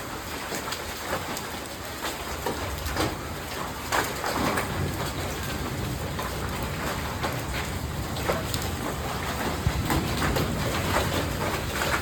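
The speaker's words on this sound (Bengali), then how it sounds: "পাথর পড়ছে, বৃষ্টির সঙ্গে পাথর, কত পাথর পড়েছে, ছড়িয়ে গেল।" Heavy, steady rain mixed with falling hail pours down with scattered hard pattering impacts on surfaces, a constant loud downpour with no voices.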